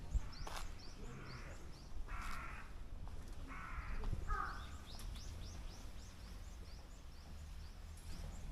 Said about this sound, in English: Just the sound of the birds and me.